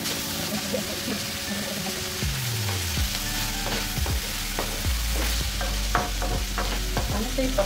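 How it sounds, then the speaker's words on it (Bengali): Potatoes fry in a pan with a loud, close sizzle while being stirred, giving scraping and clattering stirring strokes that grow busier toward the end, with people talking over it. "এখন চলছে আলু ভাজা।"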